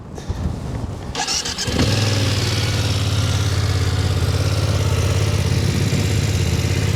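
A BMW F 900 XR motorcycle engine cranks and starts, then settles into a steady, close, loud idle with an even low throb.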